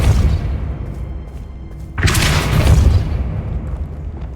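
A Depulso spell lands in Hogwarts Legacy with a sudden heavy whoosh and boom about halfway through, rising over a low rumbling cave ambience and fading off over the next second.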